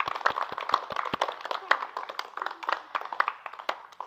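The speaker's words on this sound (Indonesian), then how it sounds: "Tepuk tangan buat kalian." Students in a PJOK physical education class clap for classmates after their presentations, a scattered, uneven patter of hand claps at moderate distance with some murmuring voices underneath.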